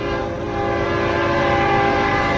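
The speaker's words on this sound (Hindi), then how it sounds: "ट्रेन की आवाज भी अब तेज हो" Cartoon train sound effect in a horror story scene: a loud sustained horn chord over a rolling rail rumble, continuous and close with no voices.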